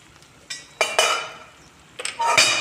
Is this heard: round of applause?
no